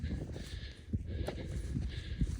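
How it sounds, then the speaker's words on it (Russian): Horses on the bank of the Pechora river shuffle and step, with soft, irregular hoof thuds close by over a low outdoor background. "Они. Тоже лошадки."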